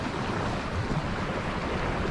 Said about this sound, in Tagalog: Meron lang gulong ng alon.